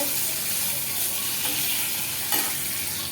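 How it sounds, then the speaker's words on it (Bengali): A steady hiss of frying in hot oil fills the clip, with a couple of soft clinks from a utensil, close and continuous. "এদিকে দেখো মাছগুলোকে ভাজি দেখো সব মাছগুলো ভাজা হয়ে গেছে"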